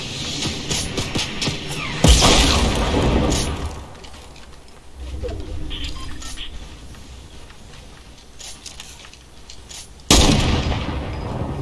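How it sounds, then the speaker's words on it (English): Loud explosive blasts from a rocket launcher in Fortnite, with heavy booming bursts near the start and again near the end amid continuous game noise and gunfire. "Rocket launcher."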